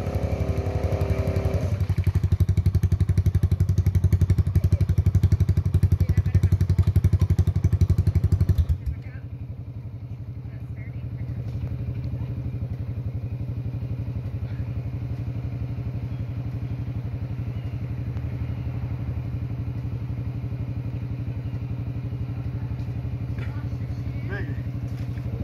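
A vehicle's wheels spin in a thick mud hole, the engine roaring loud and rough for several seconds before dropping to a lower, steadier drone, with people talking over it.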